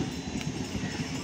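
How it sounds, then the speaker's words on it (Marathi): Trains at Bhiwandi Road station, a rumbling low roar with faint rhythmic wheel clatter, steady and fairly loud for a brief moment. "वो दोनों ट्रेन आया, देख उधर से भी आया एक दूसरा ट्रेन है"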